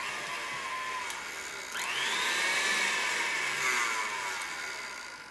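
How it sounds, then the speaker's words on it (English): An electric kitchen mixer whirs steadily at moderate distance, its motor pitch rising after a brief pause and then holding before easing slightly, with no talking. "I've looked around the kitchen here and found a mixer."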